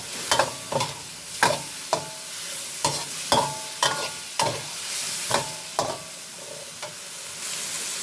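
Pork stir-fries with curry paste and a little water in a pan for a pork and bean curry-paste dish, with a loud spatula scraping and clanking in quick repeated strokes over a steady sizzle.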